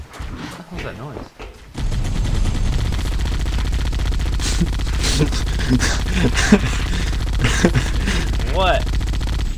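A gun fires in Halo: Combat Evolved, rapid continuous bursts of loud gunfire ringing on for several seconds after a brief quiet start, with a voice speaking briefly early on.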